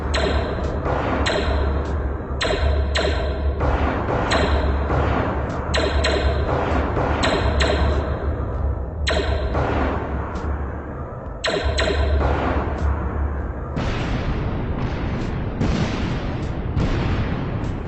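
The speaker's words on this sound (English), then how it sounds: "So he shoots them with lasers" Laser shots blast in the video game Space GAR Dungeon, a loud, dense run of repeated zapping bursts with brief gaps between volleys and no talking.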